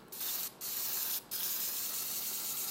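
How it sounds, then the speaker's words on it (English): An aerosol spray paint can hisses in three light bursts onto a Chevelle SS wheel, with short breaks between them. The spray is close and steady. "Just go ahead and spray it lightly."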